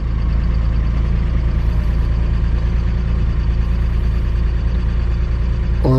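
A foreign car bought cheap from an auction, its engine idling steadily after being started with fresh oil added, a constant close low rumble with no talk.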